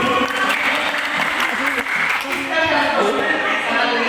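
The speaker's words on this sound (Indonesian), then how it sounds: "Kasih tepuk tangan bagi ibu." An audience claps for a woman at an Indonesian teachers' session on positive school culture, giving a steady, dense round of applause that lasts throughout, with voices mixed in.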